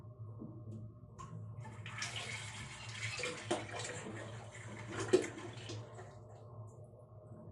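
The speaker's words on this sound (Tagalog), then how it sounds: "Buksan na ang tubig na yan." Water rushes from a newly fitted mixer faucet valve, a soft splashing stream that swells in the middle and falls back, with a couple of sharp clicks from handling the fixture.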